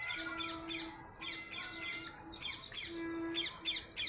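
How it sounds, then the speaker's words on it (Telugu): Birds call outdoors near a temple, repeated bright chirps and tweets in quick bursts, with a steady low hum beneath that drops out now and then, fairly close and clear. "పక్షుల అరుపులు భలే ఉన్నాయి"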